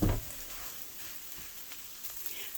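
Spiced ground meat for chili mac and cheese sizzles gently in a pan over low heat, a steady soft crackle with a brief louder burst at the start, no voices.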